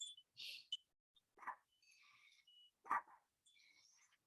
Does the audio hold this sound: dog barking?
yes